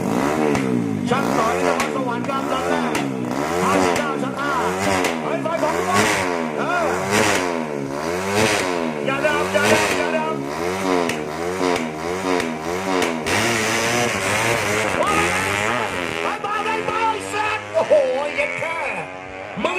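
A drag-racing motorcycle at the NGO track in Udon Thani revs hard over and over, its loud, close engine note climbing and falling in quick repeated surges that fill the whole stretch.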